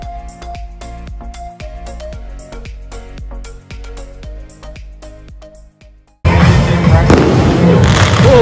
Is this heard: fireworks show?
yes